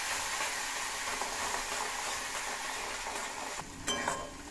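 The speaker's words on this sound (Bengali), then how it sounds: "তো টক দইটা দিয়ে আমি নেড়ে নিয়েছি।" Sour yogurt being stirred into fried spices in a pan while cooking katla fish, a steady, moderately loud sizzle with scraping, and a few sharper clinks of a spoon against the pan near the end, with no talk.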